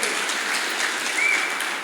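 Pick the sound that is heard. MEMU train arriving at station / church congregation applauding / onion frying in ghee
church congregation applauding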